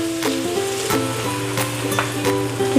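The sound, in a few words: frying ginger garlic paste and cumin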